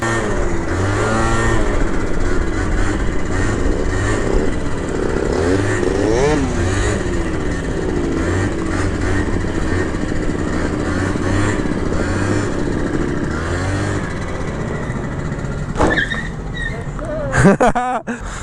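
A motor scooter runs flat out at around 35 to 40 mph on a desert path, its engine droning steadily with shifting pitch under heavy wind rush, close and loud, ending in a few bumps and rattles.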